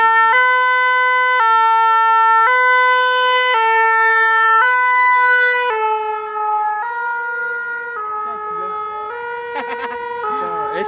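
A French two-tone fire engine siren at the 2016 Tour de France caravan in Villedieu-les-Poêles gives a loud, steady alternating high-low wail that fades slightly toward the end, with faint voices underneath.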